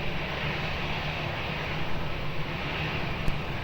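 A fixed-wing airplane's engines roar steadily at Lisbon Airport as it takes off from runway 20, a broad, even rumble holding at moderate distance for a few seconds with no talk over it.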